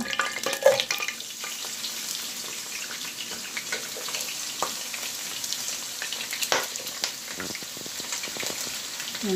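Chicken sizzles and fries in hot oil in a cooking pot with ginger garlic paste, a steady crackling hiss with occasional stirring scrapes, close and moderately loud throughout.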